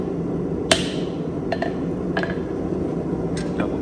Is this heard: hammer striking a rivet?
yes